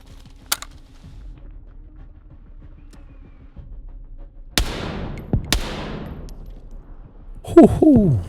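Sharp gunshots ring out during a firefight in the military game ARMA Reforger, a few isolated loud cracks spaced seconds apart, each with a trailing echo over a quiet background, ending in a brief burst of other game noise.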